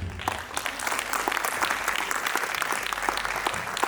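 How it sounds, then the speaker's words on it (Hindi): At an annual school function, a room full of people claps steadily and continuously, a dense patter of hands that holds at a constant level throughout. "बहुत सारी तालियों के साथ"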